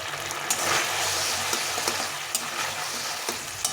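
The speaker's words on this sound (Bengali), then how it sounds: "এই টমেটোটাও দিয়ে দেবো দিয়ে একটু মশলার সঙ্গে ভালো করে কষিয়ে নেবো" Ground tomato frying with spices in a pan for aloo dum, a steady loud sizzle with occasional scraping stirs throughout.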